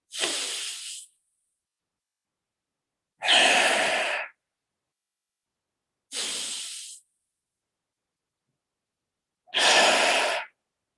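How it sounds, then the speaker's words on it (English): Four slow, deep breaths during a guided meditation, each a breathy rush of air lasting about a second, separated by long silent pauses, close and clear with no talk. "So you're breathing in very deeply, and then you are breathing out"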